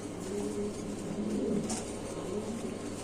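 Pigeons coo softly in low, rounded calls at a pigeon seller's, with a continuous murmur of background noise and no clear speech.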